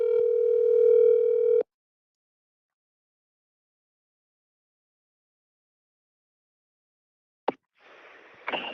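A telephone call rings through toward voicemail: a steady electronic ring tone lasting under two seconds, then long silence before a brief click and faint noise.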